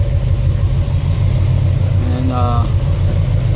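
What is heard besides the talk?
big block 7.4L 454 V8 engine running in a 1974 Nova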